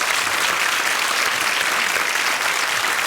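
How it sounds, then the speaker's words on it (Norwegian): Studio audience applauding a Norwegian painter during a talk-show interview, a dense, steady wash of many hands clapping that holds evenly throughout with no voices. "Det synes du kan få en applaus for."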